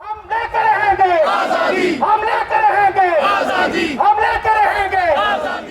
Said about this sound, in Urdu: اس موقع پر بھارتی ظلم و ستم کے خلاف اور کشمیر کی آزادی کے حق میں زبردست نعرے بازی کی گئی